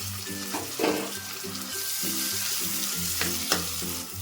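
Ginger garlic paste and chopped tomato fry in a pan with a steady sizzle, joined by repeated scraping stir strokes that come in a loose rhythm close up, and no one speaks.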